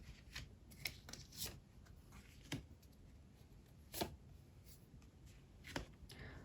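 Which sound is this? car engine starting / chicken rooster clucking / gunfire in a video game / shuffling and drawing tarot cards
shuffling and drawing tarot cards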